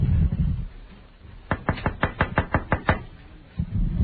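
A burst of about nine sharp, evenly spaced knocks raps on a door, loud and close, set between stretches of low room murmur and rumble.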